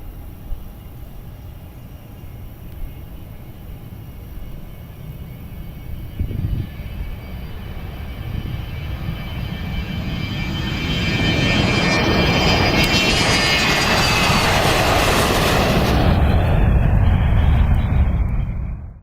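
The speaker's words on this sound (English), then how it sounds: "This pilot took a big risk on takeoff." An airplane takes off, its engine noise building from a distant hum into a loud, roaring rush that swells steadily over many seconds and peaks near the end.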